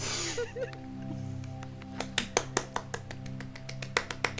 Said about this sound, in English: Do your little clap for yourself.